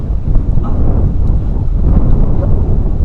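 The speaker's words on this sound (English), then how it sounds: "Oh, it's windy." Heavy wind buffets the microphone in a steady, loud low rumble that continues without a break, while crappie fishing on Lake Guntersville.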